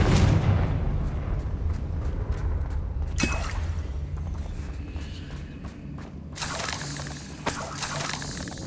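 Confringo blasting spell from Hogwarts Legacy, heard as booming fiery explosions over a dense low rumble of combat, with sharp bursts near three and six seconds and no talking.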